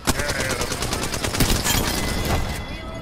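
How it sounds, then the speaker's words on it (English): Continuous gunfire in the battle-royale shooter Apex Legends, a dense fusillade of rapid shots close by and fairly loud for about three seconds, with a voice speaking faintly underneath. "They're fucking shooting at me."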